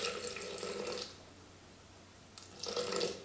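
Ice-cold water pours into a Thermomix in two close, steady streams split by a short quiet pause.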